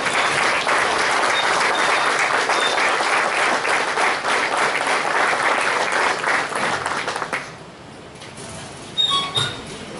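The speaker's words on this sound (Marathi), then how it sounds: "आपण सर्वांनी उभं राहून टाळ्या वाजवून त्यांचं मनापासून स्वागत" A lecture audience at a college gives a standing ovation, with loud, dense, sustained clapping that fades out and leaves a few faint squeaks and scattered noises at the end.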